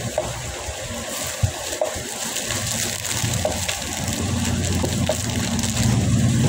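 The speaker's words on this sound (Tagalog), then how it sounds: "Ang aga naman ng ulan, alas 7 pa" Rain falls steadily outside a house early in the morning, a constant, dense wash of patter with no talking over it, growing slightly heavier toward the end.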